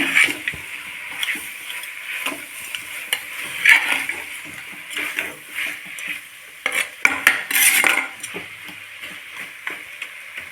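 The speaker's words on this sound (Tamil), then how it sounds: "நல்லா பரட்டி விடுங்க" Country chicken curry is stirred in a pan, with a spoon scraping and clinking against the metal over a low sizzle, in uneven strokes close by, no speech.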